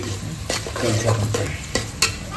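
Onions browning in a hot pan, stirred steadily with a utensil: close, continuous frying hiss broken by scraping strokes and a few sharp knocks against the pan.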